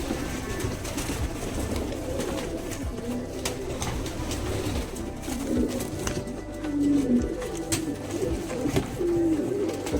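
Pigeons coo softly and repeatedly at a fancy pigeon farm in Assam, low rolling calls layered over a constant bed of ambient farm noise, with no voices.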